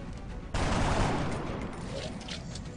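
A soldier's burst of gunfire in XCOM Long War erupts suddenly after a half-second of low background, a dense rattling volley that slowly fades over the next two seconds.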